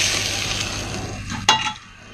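Spices tempering in hot oil in a Nepali kitchen at the Hyatt Regency in Kathmandu crackle and sizzle steadily, with one sharp utensil clink and a brief stir before the sizzle fades.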